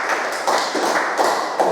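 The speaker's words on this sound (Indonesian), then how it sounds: "Tepuk tangan untuk kita semua." A classroom group claps together in a quick, dense patter of hands that swells in short waves, close and lively, with no talking.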